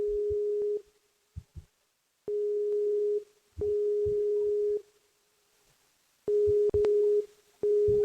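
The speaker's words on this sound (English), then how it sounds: "It's ringing out. No answer." A telephone rings out repeatedly through the earpiece, single steady-pitched tones separated by pauses, with nobody picking up.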